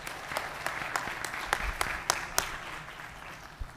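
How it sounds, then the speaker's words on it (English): An audience at a symposium on artificial intelligence in cancer research claps in a short round of applause, a dense patter of hands with a few sharp, louder individual claps standing out near the middle. "Let's give him another round of"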